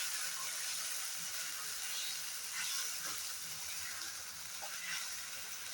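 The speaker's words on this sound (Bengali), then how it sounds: "এবার মশলাটা ভালো করে কষিয়ে নেব" Spiced masala paste for doi chicken frying steadily in oil in a pan, a continuous close hiss and sizzle with faint crackles and no talk.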